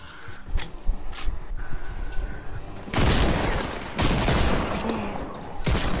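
Rapid bursts of gunfire in the battle game Fortnite, with loud volleys crackling in waves over several seconds and a faint voice underneath.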